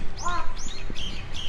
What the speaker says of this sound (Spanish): se escuchó el canto de un cuervo